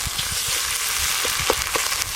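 Ginger-garlic paste frying with chopped onions in a pan over a clay stove, a dense, steady sizzle with soft bubbling pops and light stirring underneath, close and fairly loud, with no talking.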